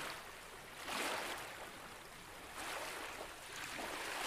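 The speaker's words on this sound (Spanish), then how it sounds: "El sonido relajante del lago junto a las montañas." Relaxing lake water ambience beside mountains in a hardcore survival video game, a soft steady wash of gentle lapping water that swells in slow, quiet surges over a faint breezy background.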